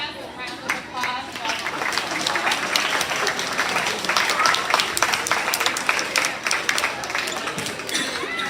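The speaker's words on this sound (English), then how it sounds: "Let's give Ms. Carter's class a round of applause." An audience at a first grade awards ceremony applauds Ms. Carter's class, with steady, sustained clapping that builds and holds for several seconds while a voice speaks faintly over it.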